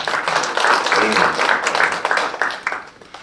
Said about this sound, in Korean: 이쯤 되면 박수 한번 쳐주셔야 되는데